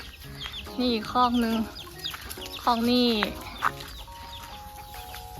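Chickens cluck and squawk in a farm pen beside cattle stalls, with loud, close, rising calls in two bursts while someone talks over them.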